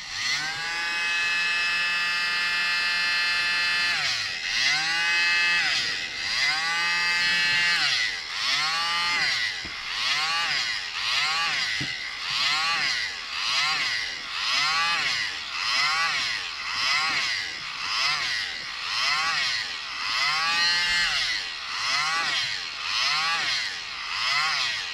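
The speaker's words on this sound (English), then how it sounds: "if you're using the mini blower, you need more" Mini air blower driving air across wet resin to open up a bloom, a steady, loud buzzing whine with a regular pulsing warble that repeats about once a second throughout, close and alone.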